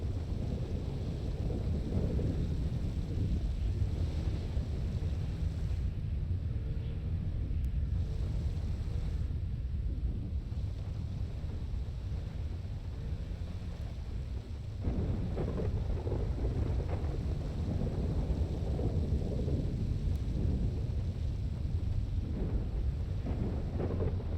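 Steady rain with rolling thunder in a role-play video game, a continuous loud wash throughout with deep rumbles swelling in and out, no voices.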